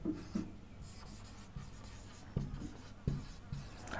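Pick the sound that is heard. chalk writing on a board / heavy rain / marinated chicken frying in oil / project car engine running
chalk writing on a board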